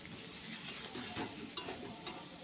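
Boiled pasta stirred into a mixture in a bowl for a chicken and egg pasta, a soft, close, continuous wet scraping with two brief sharp clinks of utensil on the bowl near the end.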